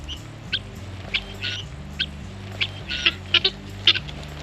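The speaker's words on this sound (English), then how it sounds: "we found some geese" Short honks and squawks of geese pop out in scattered bursts over a low background hum, a few calls clustered close together near the end.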